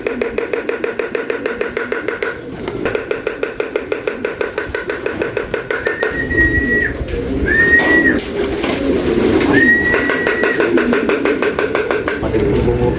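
Pigeons cooing outdoors, close and loud, with repeated rhythmic coos over steady background noise and a few short whistling calls later on.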